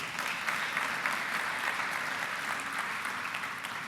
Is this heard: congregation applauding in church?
yes